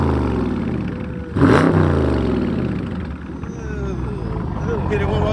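The engine of a box truck growls at a loud, rough idle, surges in one sharp rev when the gas is hit, then settles back to a heavy, throbbing rumble. The truck is close by.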